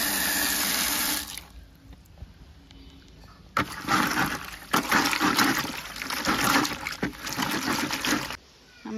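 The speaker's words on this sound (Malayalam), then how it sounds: "ജസ്റ്റ് കുറച്ച് വെള്ളം ഒഴിക്കുകയാണ്" Water poured onto a stone washing slab at home gives splashing, gurgling bursts after a quieter stretch, close and fairly loud, with a faint trickle between pours.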